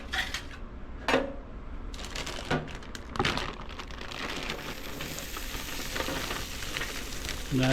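Steak fries sizzle in oil on a grill at about 375 degrees, a steady close crackle broken by a few sharper taps and scrapes.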